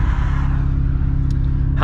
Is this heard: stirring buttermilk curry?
no